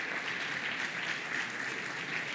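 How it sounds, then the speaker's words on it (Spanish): Steady, even applause from a conference audience for an incoming panel moderator, a dense continuous patter of many hands heard at moderate distance without pause. "un fuerte aplauso, por favor, para Jorge Saiz"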